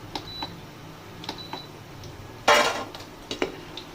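Metal spatula scraping and clinking against a frying pan as fried soybean pakoras are lifted out of hot oil, with soft taps and a brief sizzling, rattling burst partway through.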